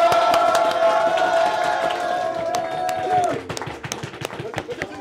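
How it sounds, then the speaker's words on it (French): An audience claps and cheers for a performer, a burst of applause mixed with a sustained shouted voice that breaks off midway, leaving scattered claps and crowd noise. "S'il vous plaît, un tonnerre d'applaudissements pour Evan."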